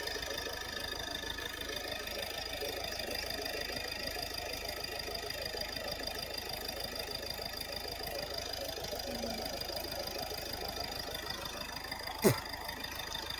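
A Hyundai Verna car engine with about 161,000 km on it idles with a low, even rumble and faint rhythmic ticking, broken by one brief knock near the end.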